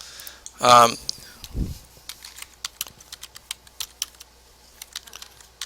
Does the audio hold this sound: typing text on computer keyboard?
yes